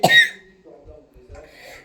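A short, sharp cough from someone speaking Hindi, one loud burst at the start that fades quickly into faint breathing and murmuring.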